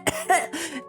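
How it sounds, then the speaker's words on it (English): A short, deliberate forced cough, two or three quick throaty bursts up close, sounding put on rather than natural. "does a really obnoxious fake cough"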